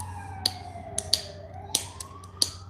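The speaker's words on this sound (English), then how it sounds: "That's another ambulance." An ambulance siren wailing outside, a faint distant tone sliding down then up beneath sharp close clicks and taps from a nearby knapping bench.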